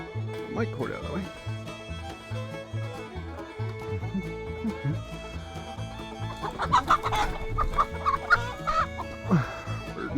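Hens cluck and squawk close by in a backyard flock of laying chickens, a continuous chatter of repeated clucks with a louder burst of agitated calls toward the end.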